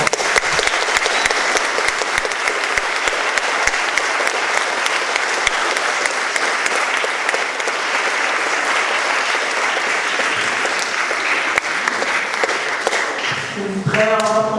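Loud, sustained applause fills the Saint Joseph church during a baptism and first communion celebration, a dense, even roar of many hands that holds for over ten seconds before fading as other sounds come in at the end.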